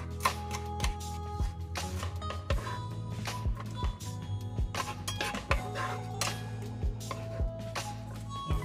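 A kitchen knife slices carrots on a cutting board in a steady run of crisp, evenly spaced chops, close and clear, over a quiet background hum with no one speaking.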